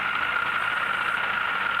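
A 63 HP narrow front farm tractor engine running during field mowing, a steady, loud drone with a strong mid-pitched whine held evenly throughout, no voices.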